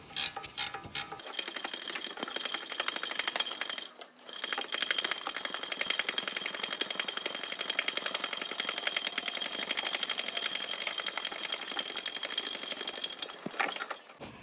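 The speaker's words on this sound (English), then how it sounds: "And then you just snug this nut off until it's fairly nice and snug." A ratchet snugs a 19 mm nut on a front lower ball joint of a 2008-2020 Dodge Caravan, giving a dense, steady run of rapid close clicking for most of the stretch, with a brief pause partway through and no talking.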